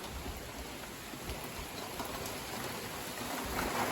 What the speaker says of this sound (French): je suis à l'abri parce qu'il pleut